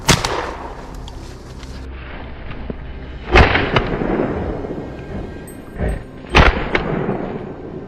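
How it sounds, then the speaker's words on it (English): Rifle shots fired at a wild boar in a frozen winter forest: two or three sharp, booming cracks with rolling echoes and rumble between them, loud and outdoors. "I fired instantly."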